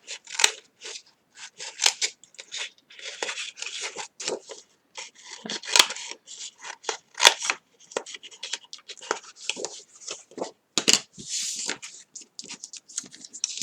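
Scissors snipping the corners of a cardboard box, giving many close, crisp cutting snips in irregular bursts, with brief quiet gaps between them.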